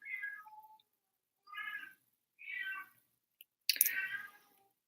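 Domestic cat meowing close by: three separate mid-pitched meows with short pauses between them, then a small click and a sharper, louder final cry, with no talk.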